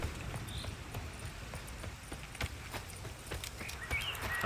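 Horse hooves clip-clop at a steady walking pace in the Witcher 3 video game, a soft, fairly faint and even rhythm over a low ambient background with occasional faint bird calls.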